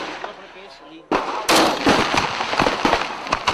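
Fireworks at a Swiss national day celebration crackle and pop in quick irregular bursts, a loud rapid string of sharp bangs layered over a noisy crowd.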